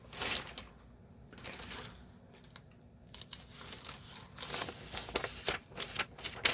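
Sheets of typewriter paper are handled up close, with soft rustling, sliding and crinkling that come in uneven bursts, some sharper snaps toward the end, and no talking.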